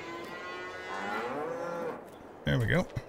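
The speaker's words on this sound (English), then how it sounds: "Okay, now the cows are completely full." Cows in a barn in the Farming Simulator 22 video game, one long drawn-out moo followed by a shorter, louder moo, clear and nearby with no talking.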